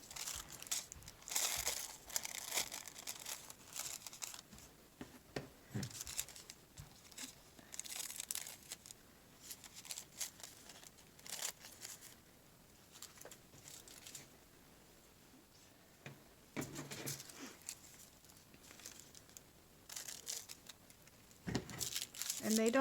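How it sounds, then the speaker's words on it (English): Scissors snipping and paper rustling as paper is cut into squares for decoupage on a heart tealight jar, soft irregular crinkles and crisp cuts up close, with quiet talk now and then. "I just like to cut mine into squares."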